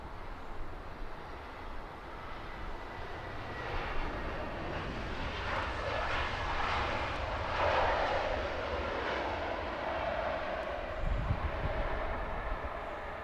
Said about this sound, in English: Lovely Emirates departure from 27 left